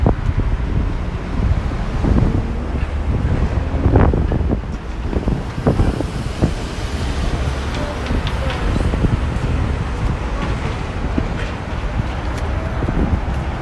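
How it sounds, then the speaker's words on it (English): Wind buffets the microphone on a street in Chicago's Uptown neighborhood, a steady low rumble with gusts throughout, while people talk underneath. "If you guys can hear me over the wind."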